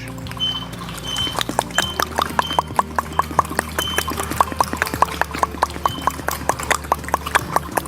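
Rapid tongue clicks imitating horse hooves during a breathing exercise, sharp, close and steady in a brisk clip-clop rhythm over a low hum, with no talking.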